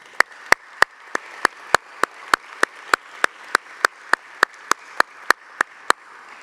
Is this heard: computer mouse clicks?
no